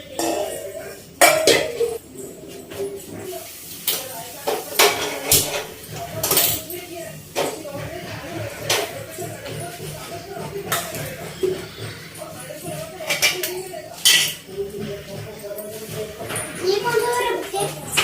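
Pots and utensils fall and clatter in a home kitchen. Several sharp metallic clanks and clinks are scattered through the stretch, mixed with children's voices and ongoing conversation.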